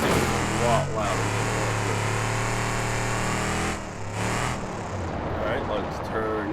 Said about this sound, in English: Oh, and the exhaust is broken also. This thing is a lot louder